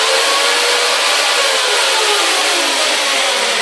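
A loud electric chainsaw, running on solar power, runs continuously at no load at a steady high-pitched whine, close by, with no voices.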